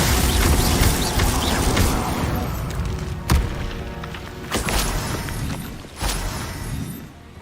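Spell impacts and explosions in the Hogwarts Legacy game: a dense rumble of blasts followed by several sharp, separate thuds and bangs, with quieter gaps between them.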